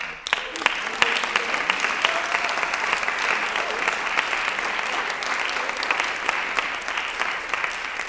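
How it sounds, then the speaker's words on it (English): Steady audience applause at a vocal masterclass, a dense sustained clapping from the room that holds an even level throughout without speech over it. "I want to give you guys a round of applause."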